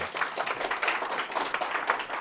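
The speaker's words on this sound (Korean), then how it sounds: "NRC로 해서 박수를 한번 쳐주시죠" A seated audience at a business seminar claps together in a steady, moderately loud round of applause, with many hands blending into an even patter throughout.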